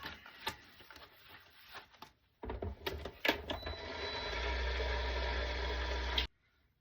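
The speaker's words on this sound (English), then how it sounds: "I'm just going to quickly run this through the die cutting machine" A die cutting machine is cranked through with card and double-sided tape, first a few scattered clicks and handling knocks, then a steady mechanical grinding hum building for a few seconds before stopping, fairly quiet and close.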